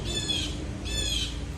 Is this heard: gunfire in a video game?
no